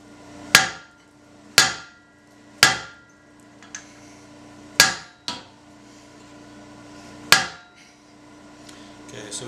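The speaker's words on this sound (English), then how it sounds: "I'll hold the hot metal here and hammer down there to use this chisel to cut into the side I need" A hammer drives a hot chisel into hot metal on an anvil in about seven sharp, ringing blows at an uneven pace, with a couple of lighter taps between them, close by.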